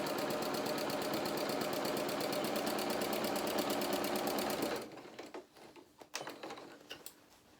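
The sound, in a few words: sewing machine quilting vinyl project bag panel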